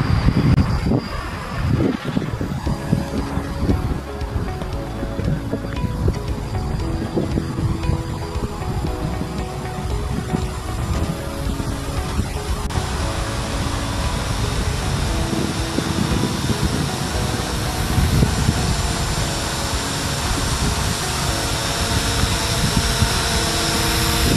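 A steady mechanical whir with strong wind buffeting runs throughout as a small quadcopter drone flies back toward its launch point, loud and close, with a faint high tone above a rumbling low end.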